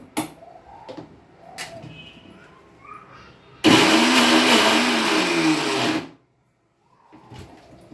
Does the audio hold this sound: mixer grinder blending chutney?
yes